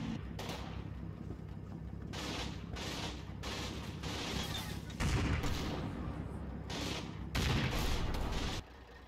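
Gunfire and artillery in the World War II tank game Combat Mission boom and crackle in loud, repeated bursts at irregular intervals, layered over continuous battlefield rumble.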